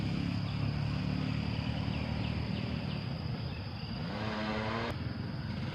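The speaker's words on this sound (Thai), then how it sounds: "สวยมากก็จะมีเสียงรถนะคะเพื่อนๆ เพราะว่าอยู่ติดถนนเนาะ" Road traffic noise rolls along steadily beside a river, with distant vehicles passing under a constant outdoor hiss and insect-like chirping; one engine drones more clearly near the end.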